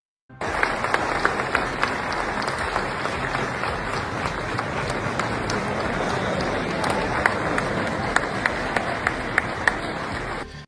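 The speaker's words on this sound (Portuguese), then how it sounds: "os convidados ainda aplaudiram Trump de pé." Guests at the World Economic Forum give Trump a standing ovation: dense, sustained applause from a large crowd, steady and loud throughout with scattered sharper claps standing out.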